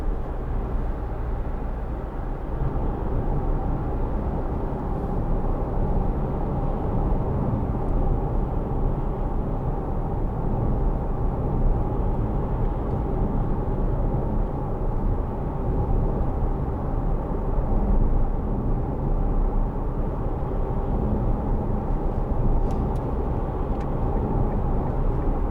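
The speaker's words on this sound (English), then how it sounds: "Little bit of tyre noise" Steady tyre roar and road rumble inside a moving 2010 Kia Sportage 2.0 CRDi, a constant low broadband drone with no talking.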